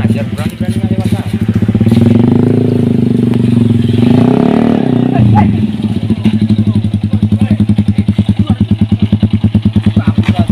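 A motorcycle engine runs close by, a loud, steady idle that briefly swells as it is revved, then settles into a rhythmic, chugging putter, with people talking over it.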